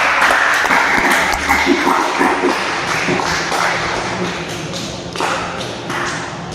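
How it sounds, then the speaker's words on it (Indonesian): A class of vocational students in a motorcycle hydraulic brake workshop claps for a student group, a busy, continuous patter of hands mixed with taps, thumps and room noise throughout. "Beri tepuk tangan untuk kelompok 1"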